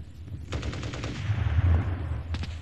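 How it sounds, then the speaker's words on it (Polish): Gunfire sweeping a battlefield in a Polish war film, with bursts of rapid shots early on, a brief lull, then a few more sharp reports near the end, all over a low rumbling background. "Całe pole pod obstrzałem."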